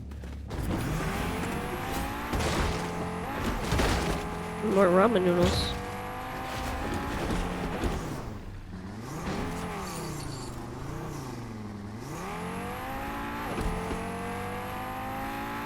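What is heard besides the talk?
car driving in a video game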